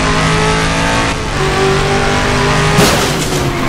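Car engine in Just Cause 2 roars steadily and loudly throughout, revving and shifting pitch with a surge near the end, no voices over it.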